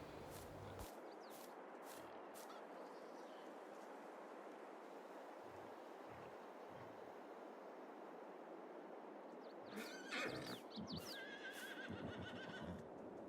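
Horses whinnying and neighing in a Farming Simulator yard beside fields of geldings and a mare, several high shrill calls early and a louder cluster toward the end over a faint steady ambient hiss, with a few hoof thuds.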